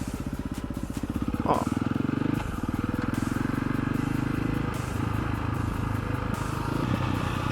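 A KTM 525 EXC enduro motorcycle ridden off-road in the Algarve hills, its single-cylinder engine thumping steadily and loud up close, with rattling clatter and wind noise throughout.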